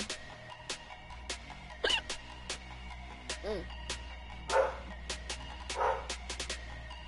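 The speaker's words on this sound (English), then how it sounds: "Sorry for my dog. Barking." A dog barks indoors a few times at intervals, sharp yips rising over a background of sports video game sound with repeated clicks.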